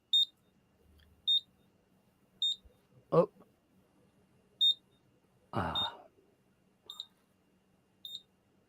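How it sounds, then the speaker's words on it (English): High electronic beeps from a sensor on a Raspberry Pi Pico W repeat at roughly regular intervals, short and sharp, with a couple of brief rustling knocks in between against a quiet hum. "I hear beeps."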